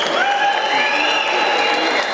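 An audience claps for federation officials being welcomed at a fan meeting in Bishkek, a dense, loud burst of applause that holds steady for the whole short stretch.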